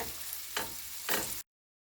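Hissing sizzle of pancakes frying in a pan, steady and close, with two short louder bursts of spatter partway through.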